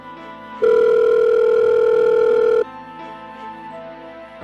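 An outgoing phone call rings back: one loud, steady electronic tone lasts about two seconds, then cuts off, leaving a quieter background hum.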